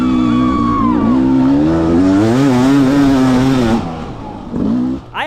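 A race dirt bike engine with a worn exhaust needing repacking revs hard and loud up close on a hill climb, pitch wavering as the throttle rises and falls with a rough, raspy, crunchy exhaust note before easing off.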